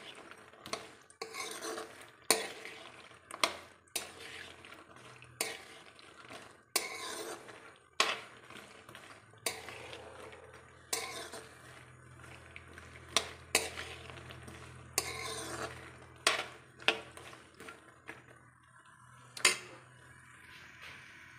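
Gond laddu ingredients fry in ghee in a pan while a spoon stirs and scrapes against the metal, producing repeated sharp clinks over a soft sizzle, close and steady.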